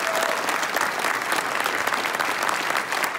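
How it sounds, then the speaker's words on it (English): Loud, sustained applause from a crowd at a LaunchCode LC101 coding graduation ceremony in St. Louis, thick and continuous clapping that fills the whole stretch. "A round of applause for the Mayer family for being here."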